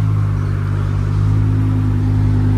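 A matte black car pulls up with its engine running, a loud, close, steady low rumble that holds an even note with no speech over it.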